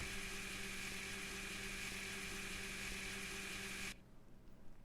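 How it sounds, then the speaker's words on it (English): A blender whirring as it blends fruit in MrCrayfish's Minecraft furniture mod, a steady high-pitched motor whine with a constant hum underneath, holding level for about four seconds before cutting off abruptly. "What it's going to do is actually start blending up those ingredients"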